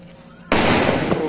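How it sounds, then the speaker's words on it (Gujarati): Firecrackers bursting during a Ram temple consecration celebration in Mehsana, a sudden loud blast that breaks a quieter background and leaves a sustained crackling roar. "અત્યારે ફટાકડા ફૂટવાનું ચાલુ છે"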